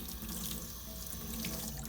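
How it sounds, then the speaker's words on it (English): Water from a sink tap runs steadily to wet a sponge at a printmaking cleanup sink, a continuous close rushing stream with no pauses for the whole stretch. "To use a sponge, you have to wet it first."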